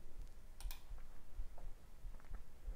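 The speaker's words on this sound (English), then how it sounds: "So we'll type in the input of 3." A few scattered keystrokes on a computer keyboard, faint and close, light clicks spaced irregularly over a quiet room background.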